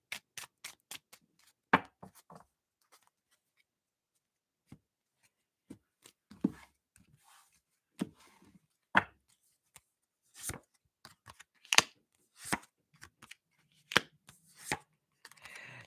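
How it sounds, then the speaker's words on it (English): Tarot cards are shuffled by hand at close range in a quiet room, producing sharp, irregular clicks and snaps in short bursts separated by pauses. "That's why I'm shuffling so much."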